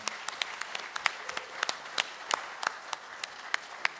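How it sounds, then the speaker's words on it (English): A church congregation claps together at a Sunday morning service, sharp scattered hand claps spread evenly across the room at moderate distance, with no voices over them. "Let's give the Lord a clap offering, huh?"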